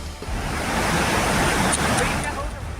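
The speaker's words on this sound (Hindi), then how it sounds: "सैलाब के शोर में आशियाने ढह रहे हैं" Floodwater rushes through a flooded village during monsoon flooding in Assam, a loud, steady, continuous roar with no breaks.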